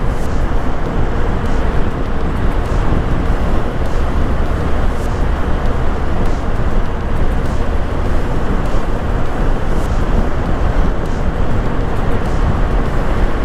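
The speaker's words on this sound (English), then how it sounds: "there's this small, nice, buzzy, echoing sound whenever you enter any tunnel" Traffic inside the Atal road tunnel on a ride from Keylong toward Chandigarh: a loud, unbroken low rumbling roar with a buzzy, echoing wash, steady throughout and with no voices.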